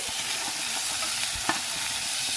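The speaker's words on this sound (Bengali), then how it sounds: "সেই পাতাটা দিয়ে ভালো করে ভাজতে হবে যাতে পাতা কাঁচা গন্ধটা একটু চলে যায়" Fish frying in a pan with ground pointed gourd leaf paste gives a continuous, close hiss of sizzling oil, with an occasional soft knock of a stirring utensil.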